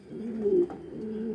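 Racing pigeons coo softly at close range, one low rolling coo swelling in the middle, with a steady murmur of other cooing around it.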